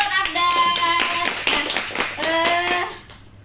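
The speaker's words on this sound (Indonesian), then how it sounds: "tepuk tangan buat Abdan" Short burst of classroom applause for a student, several pairs of hands clapping close by in quick uneven rhythm, with a voice faintly underneath, fading out at the end.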